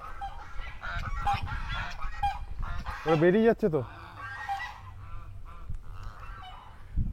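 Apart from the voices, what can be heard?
ducks or geese honking in a park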